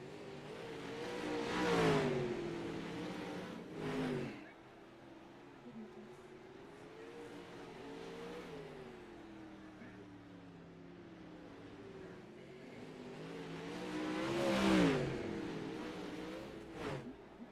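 A dirt late model race car, number 5, revs and swells on a dirt track, its engine rising and falling in pitch over several loud passes with quieter stretches between.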